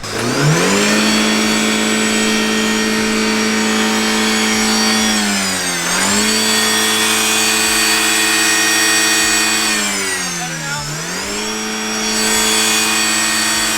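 A rotary-powered Datsun engine revs loudly and close, its pitch climbing and holding high, dropping briefly around six and eleven seconds before rising again, with no talk over it.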